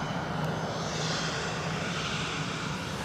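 EasyJet Europe airliner at Edinburgh Airport in strong wind, a steady broadband engine rumble and rush held at moderate level for a few seconds, with no voices.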